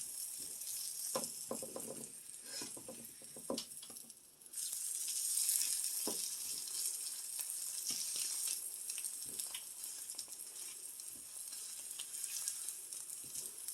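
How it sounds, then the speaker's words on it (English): Eggs fry in a pan with a steady, bright sizzle, broken by a few scrapes and taps of a utensil, heard close up and on its own. "While the second egg is cooking,"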